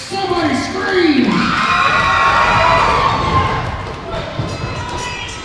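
A large indoor crowd at a pro wrestling show roars with sustained cheering and high-pitched screams, loud and continuous, with whoops rising over the din.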